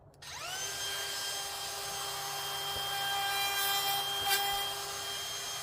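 A power tool notches wood for fence door hinges: a steady, sustained whirring cut running for several seconds, fairly close and alone, with a faint tap near the end.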